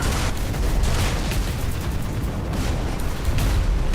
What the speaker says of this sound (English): let's do a bombing run, definitely